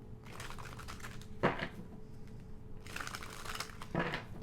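Tarot cards being shuffled by hand in two bursts of rapid riffling and crisp flutters, with a quieter pause between them.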